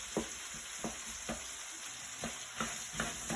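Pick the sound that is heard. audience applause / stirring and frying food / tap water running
stirring and frying food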